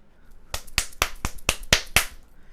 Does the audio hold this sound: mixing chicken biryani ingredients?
no